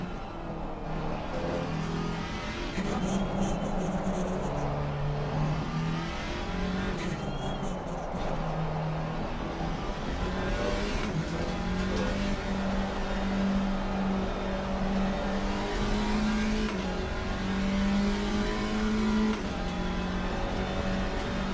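A GT4 race car in a racing video game, its engine droning and revving steadily with pitch climbing through long gears and dropping at each shift, repeated over a long run at moderate level.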